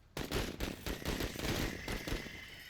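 Rapid bursts of gunfire from the Menace early-access tactical game, a dense fusillade of repeated loud shots in quick succession with no talking.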